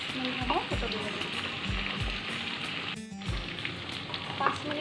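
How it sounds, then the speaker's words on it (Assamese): Pork with black lentils in an alkaline khar gravy bubbles in a pot on the stove, making a soft, steady sizzling simmer with a few spoon knocks. "মই আদাৰ কেঁচা গোন্ধটো যোৱালৈকে মই আৰু 5 মিনিট সময় উতলিব দিম"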